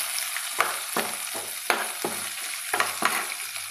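Onions sizzle in a pan as they fry for gongura pappu, with a steady hiss broken by regular scraping stirs, close and alone.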